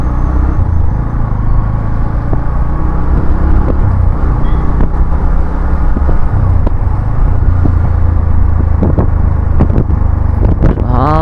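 Riding a motorcycle through hill-road traffic near the Kakashi ride route, with a steady loud engine and wind rumble, passing vehicles and scattered horn-like tones, continuous throughout.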